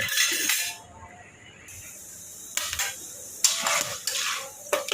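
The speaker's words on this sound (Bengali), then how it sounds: "নাড়াচাড়া করব ভালোভাবে গরম করে নেব" Food is stirred in a pot as it heats: a soft background sizzle is broken by scraping and clinking of a spoon against the metal, in irregular bursts that grow busier toward the end.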